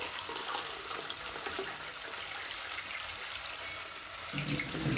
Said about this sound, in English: Now it's time for me to put in the water now.